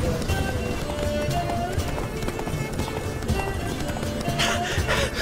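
Roach, Geralt's horse in The Witcher 3: Blood and Wine, galloping with rapid rhythmic hoofbeats under game music and ambient effects, with a voice speaking briefly over it.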